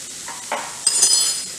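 Mixed vegetables with spices stirred in a pan make a few scraping strokes and light clinks of a spoon, followed by a brighter rising sizzle, close and fairly loud, with no voices.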